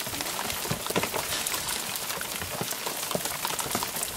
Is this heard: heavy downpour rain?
yes